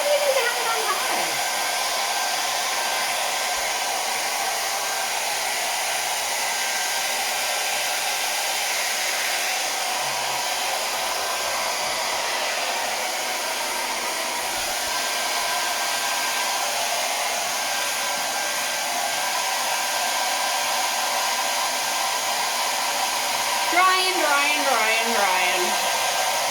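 A hair dryer on a low heat setting blows steadily over a painted canvas for a long stretch, loud and close, with a brief pitch sweep near the end and no talking.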